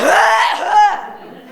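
A single harsh, throaty cough from a man during a stand-up comedy set, loud and close, trailing off into a rasp.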